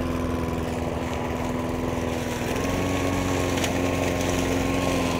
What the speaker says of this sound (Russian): Но от этого газонокосилка Hyundai ее менее эффективно не стрижет.